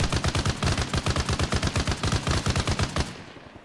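Humvee-mounted gun firing on a Huey helicopter in a video game, a rapid, steady burst of loud automatic shots at an even rhythm that stops abruptly after about three seconds.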